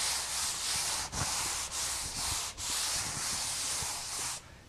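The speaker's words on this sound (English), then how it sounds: "But to sand a wall now," A Wooster AeroSander works across a wall in steady, close, continuous sanding strokes, a broad abrasive hiss broken by three brief pauses and stopping just before the end; no one talks.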